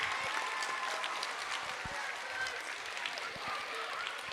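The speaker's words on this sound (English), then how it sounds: "Let's give them all a round of applause." An audience applauds students at an elementary school end-of-year awards ceremony, a steady, moderately distant sheet of many hands clapping that carries on evenly throughout.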